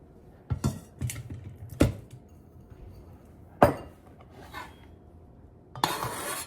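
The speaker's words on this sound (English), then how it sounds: "I'm gonna grab a mixing bowl" A mixing bowl handled in a home kitchen while making steamed pork patty, giving a few sparse, sharp clinks and knocks separated by quiet gaps.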